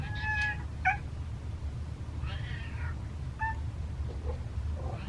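Three cats meow at a door, several short, close meows spaced out over low steady background hum, with no talking.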